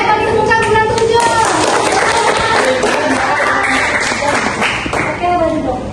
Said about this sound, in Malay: bagi tepuk tangan bulan 7